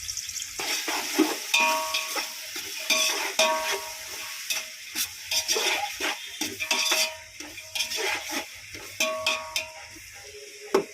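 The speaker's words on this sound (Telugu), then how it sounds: "నూనె వేడెక్కిందండి ఇప్పుడు ముందుగా మనం కోసి పెట్టుకున్న ఉల్లిపాయలు వేసుకుందాం" Chopped onions fry in hot oil for a mutton curry, a steady sizzle broken by frequent scraping and clinking of a spoon stirring in the pan, close up.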